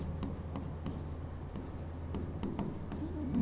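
Marker or chalk strokes on a board during a calculus lecture on total and partial differentiation, a quick irregular series of close scratchy taps and short scrapes over a low steady room hum.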